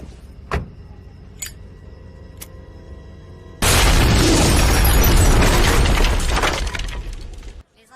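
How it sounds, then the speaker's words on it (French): A gas leak explosion rips through a building with shattering glass. A few sharp clicks over a low hum give way to a sudden loud blast, followed by about four seconds of roaring, crashing debris that then cuts off. "Les enquêteurs pensent qu'une fuite de gaz est à l'origine de l'explosion."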